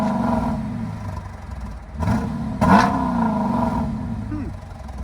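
Dodge Durango R/T with a 5.7 HEMI V8 and LCGP exhaust rumbles close by, with a couple of brief blips of revving over a steady low drone.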